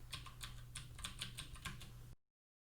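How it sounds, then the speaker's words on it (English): A computer keyboard is tapped in a quick burst of about eight keystrokes, close and fairly quiet, followed by sudden silence. "type in status"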